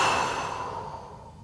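A single long, deep exhale pushed out through the mouth during yoga breathing, breathy and close, fading steadily over about a second and a half.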